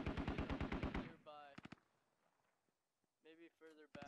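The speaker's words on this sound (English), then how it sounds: "But they are taking a lot of shots." Rapid burst of automatic gunfire in the video game Squad, about ten close, loud shots in quick rhythm, followed by a couple of sharper reports, then a pause before more distant crackling shots near the end.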